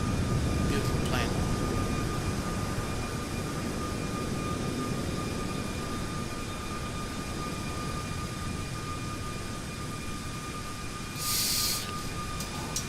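A Boeing 737 MAX 8 airliner, the iFly add-on in Microsoft Flight Simulator 2020, flying Panama to Bogota: a loud, steady broadband engine and cabin roar runs throughout, with a brief higher-pitched burst near the end.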